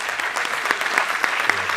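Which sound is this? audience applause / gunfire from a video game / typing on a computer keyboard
audience applause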